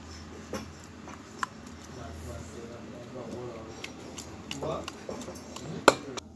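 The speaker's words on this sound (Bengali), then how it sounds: "এবার আমি এই মশলাটা আমি চিংড়ি মাছের মধ্যে ঢেলে দেবো।" A spoon scrapes and clinks against a metal bowl as ground spice paste is tipped onto raw prawns for a green-coconut prawn dish. Light, irregular taps sit over a low room murmur, with a sharper clink near the end.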